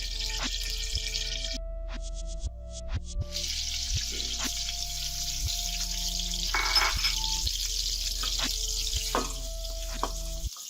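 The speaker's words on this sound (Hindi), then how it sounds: "ये घी हमारा गर्म हो चुका है, इसमें हम प्याज डालेंगे।" Onions sizzle in hot ghee for an aloo palak curry, a steady close frying hiss that runs throughout with occasional stirring knocks and clinks from a utensil, and no voices.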